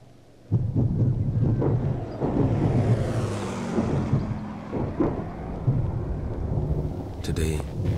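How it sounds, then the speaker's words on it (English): Rain patters on a tent roof in a steady wash, with a deep rumble swelling in the middle and a voice faintly under it. "listening to the rain on the roof of my tent"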